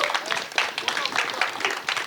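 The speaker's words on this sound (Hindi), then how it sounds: "एक बार सारे कास्ट के लिए बहुत सारी तालियां होनी चाहिए प्लीज" A crowd claps for a film's cast at a movie trailer launch event, with brief uneven applause and some voices mixed in.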